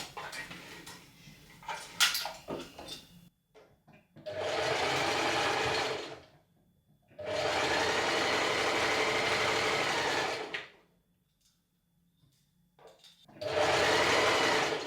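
A sewing machine stitches a neckline seam on a tank top in three steady, close bursts of whirring with quiet pauses between them. Brief talk and handling noise come before the first run.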